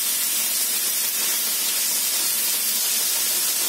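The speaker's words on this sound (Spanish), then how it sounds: "Lo sofreímos por algunos 2-3 minutos con la cebolla y la zanahoria" Tuna sizzles in a pan with onion and carrot while it fries, a steady bright hiss like spraying steam that runs evenly and fairly loud throughout, with no voices over it.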